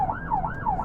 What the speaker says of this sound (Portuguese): Será que eu posso tocar a sirene?